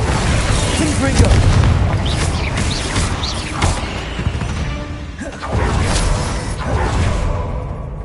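Confringo fire spell blasts in the Hogwarts Legacy video game, a series of loud booming explosions and whooshes layered over dense continuous game effects and rumble across the whole stretch.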